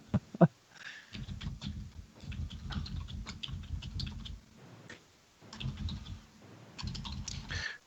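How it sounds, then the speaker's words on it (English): Rapid clattering keystrokes on a computer keyboard come in bursts with short pauses between, close and fairly quiet. "So what's Brian doing now? I hear typing"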